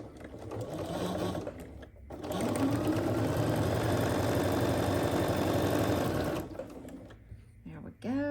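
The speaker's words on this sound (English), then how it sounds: "we're going to sew 1/4 of an inch on each side of the drawn line." A sewing machine runs steadily for several seconds, stitching quilt fabric squares a quarter inch from a drawn line, starting and stopping with brief pauses between bursts, close and loud with faint voice around it.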